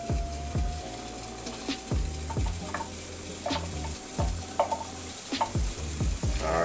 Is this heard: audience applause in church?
no